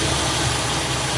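A 1964 Buick Electra V8 fitted with an Edelbrock 4-barrel carburetor idles loudly and close up, a steady, even rumble with a slight mechanical chatter.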